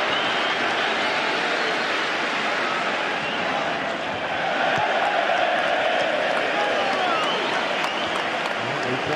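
A big stadium crowd at a Manchester City versus Liverpool football match applauds the Liverpool manager, with dense, steady clapping and a general roar holding at full level the whole time.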